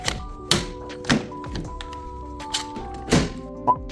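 Sharp wooden thunks and taps as a wooden bow blank is clamped down to a work surface, several distinct knocks spaced irregularly over a quiet room with faint ringing tones.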